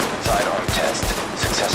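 Sidearm shots in The Division's weapon-test tutorial, a handful of sharp pistol reports spaced irregularly over a busy game soundscape, close and moderately loud.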